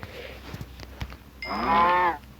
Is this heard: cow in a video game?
yes